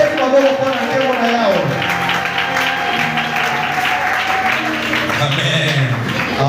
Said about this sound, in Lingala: Est-ce qu'on peut acclamer pour la gloire de Dieu?